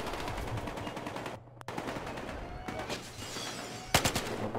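Sniper rifle fire and other gunshots in the video game Battlefield Hardline, sharp cracks over a dense, continuous din of battle, with one loud shot standing out near the end.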